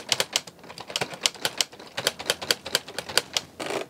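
Keys of a LEGO Ideas 21327 brick-built typewriter pressed in a steady run of sharp plastic clacks, about four per second, close and clear, with a slightly longer rattling press at the end.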